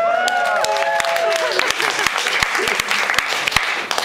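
Enthusiastic audience applause at a live comedy show in a bar in Wellington, New Zealand, a dense wash of many hands clapping steadily throughout, with a few voices and cheers rising over it.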